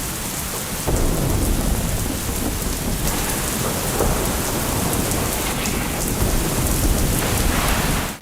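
A heavy thunderstorm with pouring rain and strong winds in Pakistan's Khyber Pakhtunkhwa and Punjab sounds as a dense, loud roar of rain with rolling thunder rumbling beneath it, steady and unbroken throughout.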